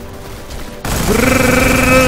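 Gunfire in the video game Deadfall Adventures: a sudden loud burst cuts in partway through and is followed by sustained ringing tones and a dense rattle, following a quieter opening.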